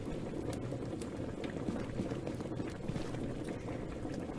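A cooking pot bubbling over a fire in the video game A Township Tale, with a steady, dense low burble of boiling liquid running continuously and fairly loud, with no talk over it.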